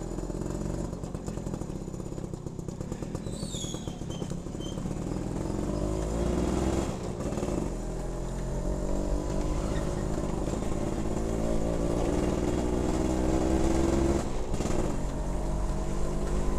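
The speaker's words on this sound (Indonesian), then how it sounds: "Pagi ini kita riding dengan Suzuki Tornado." A Suzuki Tornado GX100 motorcycle engine drones steadily while riding, a continuous loud hum with wind rush that rises slightly in pitch over time, heard alone without speech.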